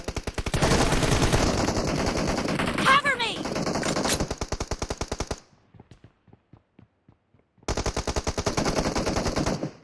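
Rapid automatic gunfire from the PUBG Mobile game during an esports match, loud sustained bursts with a short lull of quieter distant shots before firing resumes, with some voice chatter mixed in.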